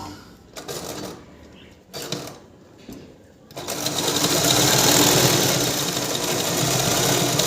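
A sewing machine stitches a fall onto a blouse, running in a few short bursts, then in a loud, steady, continuous whir close by.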